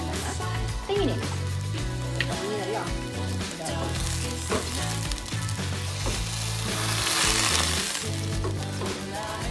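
An egg fries in coconut oil in a pan over a low flame, giving a steady, close sizzle that swells slightly near the end while a voice talks over it.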